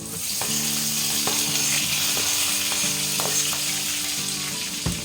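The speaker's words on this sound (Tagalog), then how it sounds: "Ngayon ay lagay na natin yung sibuyas at saka bawang." Onion and garlic sautéing in a pan for ginisang puso ng saging: a loud, continuous close sizzle with a few spoon scrapes and taps, alongside a faint steady hum, with no talking.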